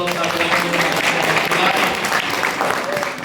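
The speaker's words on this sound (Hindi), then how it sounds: "तो प्यारे जोरदार ताली बजाएं।" Loud, dense applause from an audience at a religious katha gathering, a continuous roar of many hands clapping close by for the full stretch without pause.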